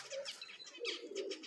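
Brief soft coos and light chirps come from pigeons gathered near their nests in June, a few separate calls close by in a quiet space, with a faint rustle like shifting wings.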